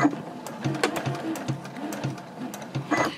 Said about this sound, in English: we're going to sew right off of the edge here